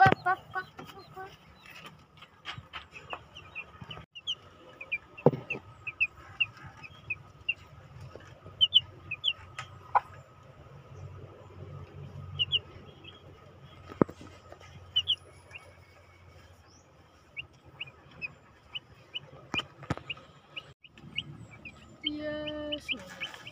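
Hybrid gamefowl chicks peep in frequent thin, high chirps, some closer and some fainter, over a low background hum, with occasional soft clucks and a few quiet voices nearby.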